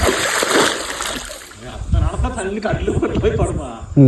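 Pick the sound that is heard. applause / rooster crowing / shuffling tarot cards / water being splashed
water being splashed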